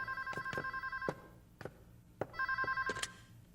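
Telephone ringing indoors with two bursts of rapid electronic trilling separated by a pause, alongside a few sharp knocks or clicks, fairly close with no voices.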